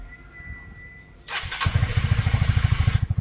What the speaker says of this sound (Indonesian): Starter engine nyala.